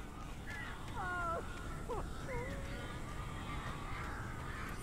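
Birds around a house in the video game Alan Wake give several short, harsh caws in quick succession over a steady ambient hiss.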